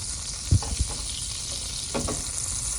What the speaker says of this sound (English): is causing the butter to bubble or boil